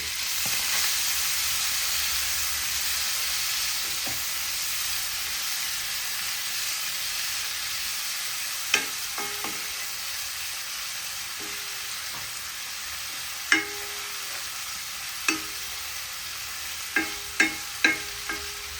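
Marinated sausage frying in coconut oil keeps up a steady, moderately loud sizzle while a spatula stirs it, scraping and tapping the pan several times, more often toward the end.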